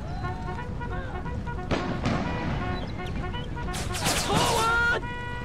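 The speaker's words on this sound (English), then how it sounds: "Here goes the Coehorn mortar." A Coehorn mortar fires in an American Civil War mod of Empire: Total War, giving a sharp boom near the middle with a burst of crackling battle noise later, all over a steady bed of in-game music and ambient din.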